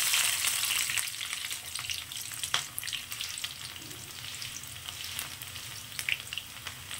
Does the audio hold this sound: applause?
no